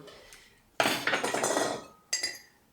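A metal spoon scraping and knocking inside a pot of heavy gesso, one long scraping scoop followed by a shorter clink, close by and alone without talk.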